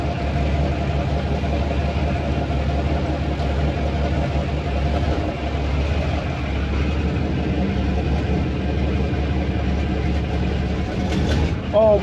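A Cummins 555 Triple Nickel diesel engine running in a Brockway 358 truck, a steady, even rumble that stays close and constant throughout, with faint talk underneath.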